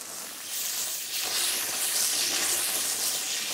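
Tomato paste and vegetables roasting in a Dutch oven for braised leg of lamb give a steady close sizzle with broadband hiss, rising slightly after the first second and holding level, with no talk.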